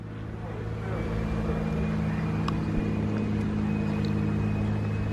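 Supercharged Roush Stage 3 Mustang engine running steadily nearby, a continuous low droning rumble with a faint high whine above it, holding even throughout.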